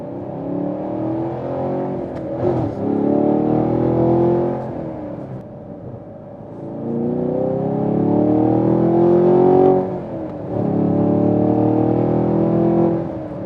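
A Chevy Camaro SS 1LE V8 with a six-speed Tremec manual, in sport mode, sounds loud and close as the engine revs up and down in long rising and falling sweeps through the whole stretch.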